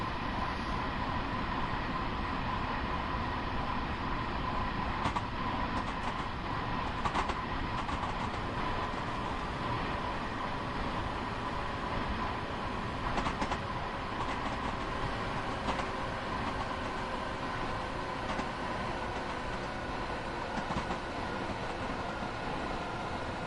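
A Long Island Rail Road train rolls steadily in the Train Sim World video game, a constant rumbling run with faint rhythmic clicks of wheels on track joints, heard alone at moderate level.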